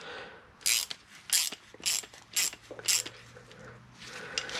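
Bolts from a Subaru Forester clutch job being worked through a thread die to clear red Loctite, five or six quick metallic ratcheting bursts in an even rhythm, fairly close, with no talking.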